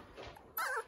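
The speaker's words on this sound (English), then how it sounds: "other puppies in the background barking. They're barking at each other." Puppies barking at each other nearby, a short yip followed by a louder, sharper bark, brief and close.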